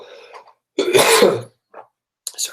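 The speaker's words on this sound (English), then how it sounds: "Sorry about the cough." A few coughs and throat clearings, one loud burst in the middle with shorter, fainter ones before and after, separated by silence.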